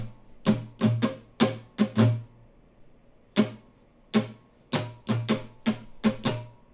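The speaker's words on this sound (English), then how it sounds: "We've got down, down, up, up, down, down, down, up, and the whole thing's going to sound like this." Acoustic guitar strummed in a down, down, up, up, down, down, down, up pattern, two bursts of quick, crisp strokes separated by a short pause, close and alone.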